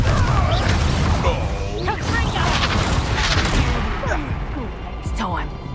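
Confringo blast spell cast in the wizarding game Hogwarts Legacy, dense crashing bursts and booms layered with whooshing magical swirls, loud and busy throughout, mixed with voices.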